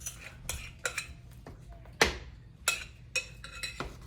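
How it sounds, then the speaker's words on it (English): Utensil scraping and clinking against a bowl while a peanut butter and jelly meatloaf mixture is scooped into ground meat, a series of sharp, close metallic taps and scrapes with quiet gaps between. "I'm gonna scoop this mixture into the meat"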